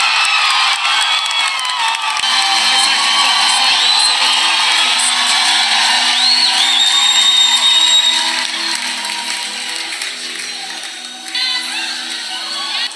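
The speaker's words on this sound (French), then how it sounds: "je vais vous prier d'accueillir avec des applaudissements l'apôtre Roland Dallot qui va nous apporter un message" A church congregation cheering and clapping to welcome an apostle to the pulpit, a loud, sustained wash of applause and shouts that slowly fades toward the end.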